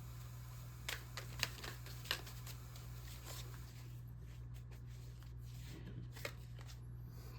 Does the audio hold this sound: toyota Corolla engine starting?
no